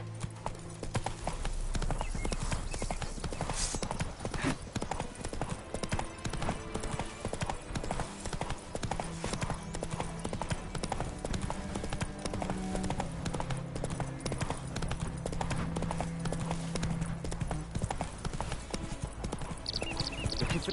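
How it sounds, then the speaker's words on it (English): A horse gallops in The Witcher video game, steady rhythmic hoofbeats drumming on and on for the full stretch, layered with game music and ambience. "Run, Roach."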